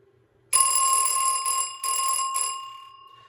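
An old telephone bell driven through a telephone adapter rings loudly and close in a metallic, bright trill that stutters briefly twice before fading out.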